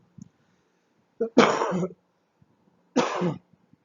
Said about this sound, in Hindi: ये कोरोना की खांसी नहीं है